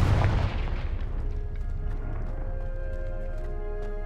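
A Confringo fire spell bursts in Hogwarts Legacy with a sharp, loud explosive boom at the start that quickly dies away, leaving sustained tonal game music ringing.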